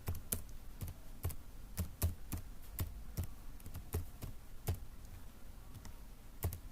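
Typing on a computer keyboard while filling in an online address form, with steady, close, crisp key taps at an uneven pace and no talk.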